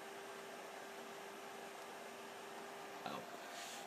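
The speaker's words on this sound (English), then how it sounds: "That fan is getting awful loud." A Compaq Deskpro EN desktop computer's cooling fan roars loudly and steadily during a BIOS update, a constant broadband whoosh with a faint tonal whine, briefly joined by a small click near the end.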